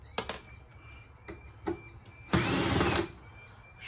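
A power drill spins out screws from an old AC unit in short whirring bursts, two brief ones, then a longer loud run, with faint clicks and handling noises between.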